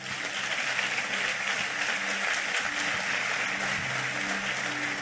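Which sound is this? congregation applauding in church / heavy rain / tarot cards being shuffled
congregation applauding in church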